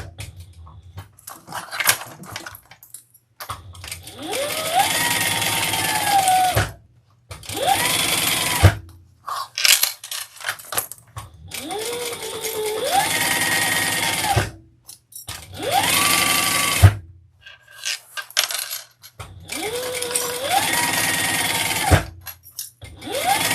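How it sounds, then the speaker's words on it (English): Sewing machine top stitching a crossbody bag, the motor whirring up in repeated bursts of a few seconds each, its pitch rising and holding, with short silent pauses between runs. "just baste the sides and then top stitch on that other side"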